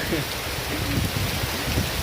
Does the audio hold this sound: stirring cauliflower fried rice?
no